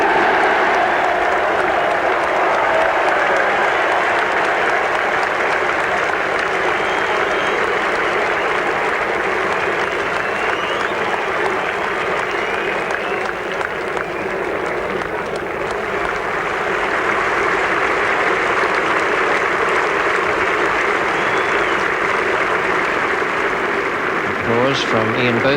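A cricket crowd at Headingley during the 1981 England–Australia Test applauds continuously in a dense, even wash of clapping, with a voice talking over it throughout.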